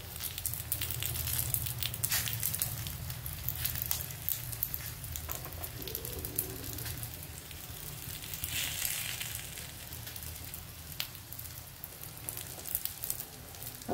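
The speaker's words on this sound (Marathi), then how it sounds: "आता आपण खालचा व्यवस्थित भाजून घेऊ" Alu vadi, colocasia leaf rolls, frying in oil in a pan, a steady close sizzle and crackle that runs the whole time with small popping spikes and no voices.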